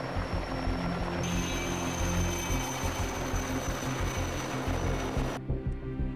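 A firefighting helicopter flies over a huge wildfire on the east coast, its steady, loud rotor drone and engine whine filling the scene, then cutting out abruptly near the end.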